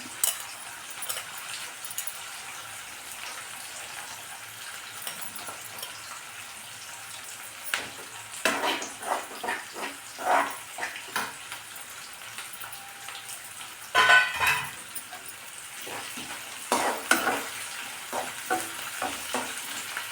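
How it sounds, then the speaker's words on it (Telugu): Chopped garlic and ginger frying in oil, a steady soft sizzle with scattered stirring scrapes and clinks, louder bursts of stirring near the middle and toward the end, no voices. "మనకు చిన్న కట్ చేసుకున్న ఎల్లిగడ్డ ప్లస్ అల్లం కూడా ఆయిల్లో ఫ్రై కావాలండి"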